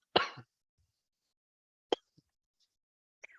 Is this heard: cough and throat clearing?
yes